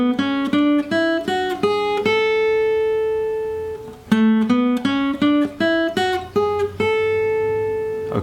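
Lead guitar runs a full major scale from one fretboard position, single picked notes climbing then descending with one long held note midway, clean and close, no talk.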